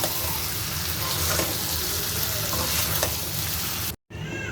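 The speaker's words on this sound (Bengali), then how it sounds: "আস্তে আস্তে জালে আমার মাংসটা হালকা হালকা ভেজে কষিয়ে নেব।" Beef head meat sizzles and is stirred in a frying pan while being slowly fried for a Bengali bhuna, a steady close crackle with scraping stirs, briefly cutting out near the end.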